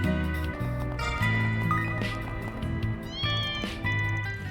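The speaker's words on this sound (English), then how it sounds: "Hey look, there's a kitten over here." A kitten meows repeatedly in the video game Trails Through Daybreak II, several short close mewls rising and falling over a steady bed of background game music, with no talk.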